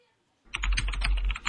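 A computer keyboard is typed on to enter a captcha code while checking voter card status online. After a short silence comes a quick, close burst of steady keystrokes.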